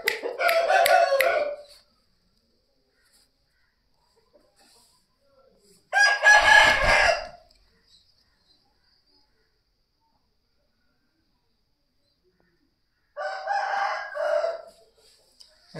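An Aseel rooster, about 3 kg and 18 months old, crows three times with long gaps of silence between, loud and close.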